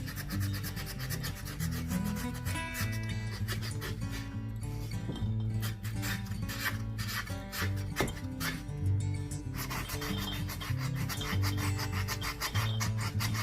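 Continuous rough scratching and rasping of wooden stair risers, steady and close, with faint music playing in the background throughout.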